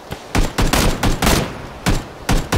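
Gunshots in the video game PUBG, several sharp bursts of fire in quick succession with short gaps, loud and close, no talking.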